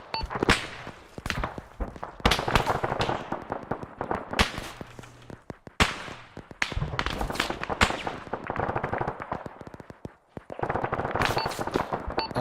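Sustained gunfire in the video game Arma 3 during a co-op infantry advance, with repeated sharp rifle cracks and bursts, some close and loud, others farther off, continuing almost without pause.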